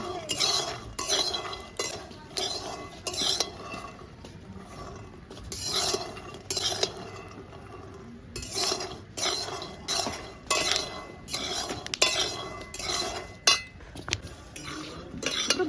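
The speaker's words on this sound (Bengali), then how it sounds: "ভালো করে বাদামগুলো ভেজে নেব" Peanuts roasting dry in a hot kadai, stirred with a metal spatula: repeated scraping and clinking strokes in an uneven rhythm, close and moderately loud, with no talking.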